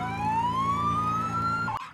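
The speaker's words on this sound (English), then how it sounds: "I'm ambulance. I say nee naw nee naw." A loud ambulance siren wails in a rising tone with steady traffic rumble beneath it, close and continuous, with no voices.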